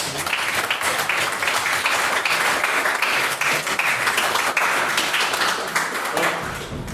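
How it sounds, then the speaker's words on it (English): An audience at an evening debate gives a round of dense, continuous applause for the speeches, steady throughout and tapering slightly at the close. "if we can get a round of applause for all the speeches this evening, please"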